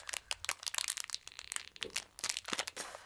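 A plastic pouch is handled and opened up close, giving a run of sharp crinkles and crackles in irregular bursts that come and go quickly.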